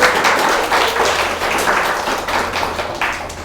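A church congregation applauds warmly and steadily during a sermon service, a dense clapping that fills the room from start to finish with no voices standing out.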